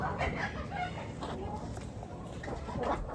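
Farm poultry calling near the camera on a small farm, a steady stream of overlapping clucks and gobble-like calls carrying on throughout, with a voice also audible in places.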